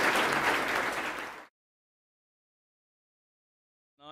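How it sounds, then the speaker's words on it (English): An audience at the Finsia Life Membership and Pinnacle Awards 2011 ceremony claps for the life members. The dense applause lasts about a second and a half, then cuts to silence, and a voice begins right at the end. "please join me in a round of applause to congratulate all our life members."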